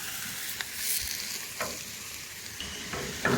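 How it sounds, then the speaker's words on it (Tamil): Cardamom, assorted whole spices and green chillies sizzle steadily in hot oil in a large bulk-cooking pot for mutton biryani, with a few scraping stirs of a ladle breaking through the continuous frying hiss. "ஏலக்காய், எல்லா மசாலா ஐட்டம்ஸும், பச்சை மிளகாய் இவ்வளோ சேர்த்து நாங்கள் போடுறோம். எண்ணெய் கொதிச்சிருச்சு."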